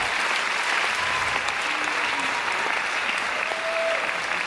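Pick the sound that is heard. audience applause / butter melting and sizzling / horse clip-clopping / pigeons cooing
audience applause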